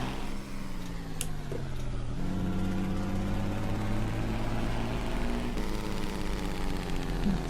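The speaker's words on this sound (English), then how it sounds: "It's a little engine brake, but it sounds cool" A Kenworth 521 truck engine in American Truck Simulator drones steadily with a low, rumbling engine-brake growl that shifts pitch a couple of times, continuous and moderately loud.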